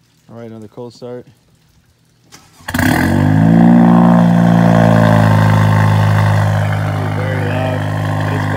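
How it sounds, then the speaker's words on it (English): After a few seconds of speech, a 2016-or-later Honda Civic with a PRL downpipe cold-starts abruptly, its engine roaring loud and close, then settling into a steady, high idle. "Very loud. It's cold start."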